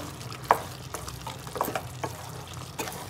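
Chilli chicken with coconut powder and masala frying in oil in a pan, a soft steady sizzle broken by several scraping stirs and light clinks of the spoon, close and alone.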